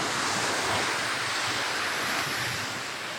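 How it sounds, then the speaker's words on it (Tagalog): Loud, steady surf roars continuously as waves break and wash against the shore at Boulder Bay, with a rushing wind-like hiss throughout and no voices. "Makikita niyo yan, yung hampas ng alon na yan"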